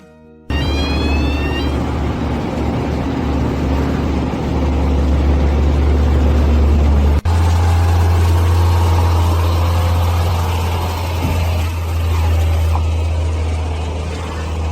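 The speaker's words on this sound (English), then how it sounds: "now we're just waiting for the crawler crane to bring in that 300-ton piece" Diesel engines of a crawler crane and trucks working a 300-ton heavy lift, a loud steady low rumble that holds across the span, with a brief thump partway through and no talk.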